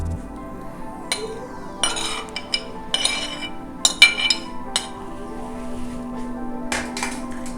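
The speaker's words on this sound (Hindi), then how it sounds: "अब आप एक डोंगा ले लें, उसके अंदर ये सब वेजीज हम ऐड कर देंगे।" Chopped vegetables dropped and clinking into a serving bowl while preparing vegetable raita, with light scattered clinks and taps of utensils against the dish over a steady low background hum.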